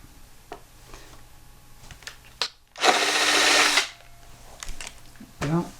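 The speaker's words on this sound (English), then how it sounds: "I'm going to drill only up to the blue tape" A step drill bit whirs through wood in one steady burst of about a second, with quiet clicks and handling noises before and after.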